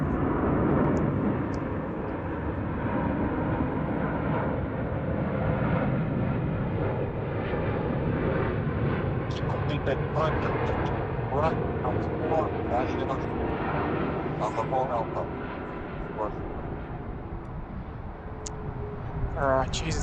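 An airplane rumbles on runway 16 at Sydney Airport in high wind, a broad, steady engine roar that fades slightly toward the end, with faint voices talking beneath it.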